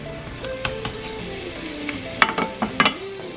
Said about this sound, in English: The onions are starting to brown, which is a good thing, and that means it's a good time to start adding in more butter